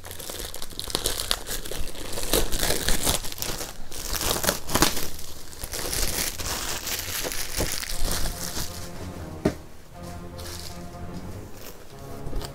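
Packaging from a Marvel Collector Corps box being opened, continuous crinkling and rustling of plastic and paper, close and busy throughout, with louder crackles at moments.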